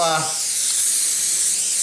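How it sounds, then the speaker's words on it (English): Olive oil cooking spray hisses from an aerosol can in one steady, close burst lasting almost two seconds, right after a brief voice at the start; it is being sprayed onto pork before smoking. "This is olive oil spray, any kind of non-cooking spray. We're just going to spray some on here."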